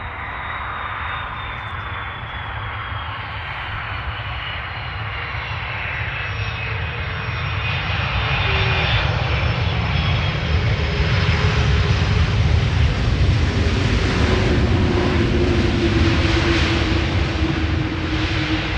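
A KLM airliner arrives at Amsterdam Schiphol Airport after a long flight from Bonaire. Its jet engines roar steadily and grow louder as it nears, with whining tones sliding downward as it passes, and no voices.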